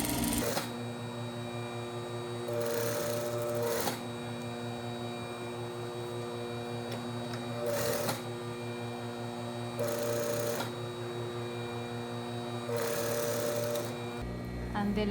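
A sewing machine stitches a basic bodice shoulder seam in several loud bursts of a few seconds each, with a steady motor hum and quieter pauses between runs.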